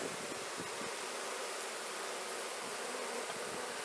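Honeybees fanning at a hive after a honey super was added, making a continuous, even buzzing hum that stays steady and fairly close throughout, with no voices.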